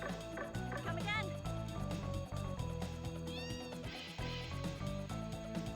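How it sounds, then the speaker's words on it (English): Cat meows from the Disgaea 7 video game, a couple of short mews heard over steady game music and effects. "Kitty cat."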